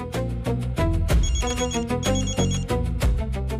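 A telephone rings insistently in repeated bursts, close and loud, with no one speaking over it.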